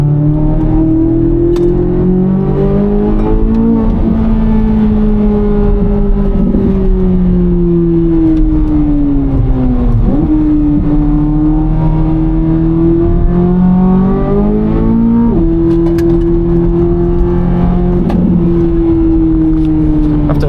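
A 670 HP 2024 Corvette Z06 engine revs hard while driving, loud and close throughout, its pitch climbing and dropping sharply through repeated gear changes with no talking over it.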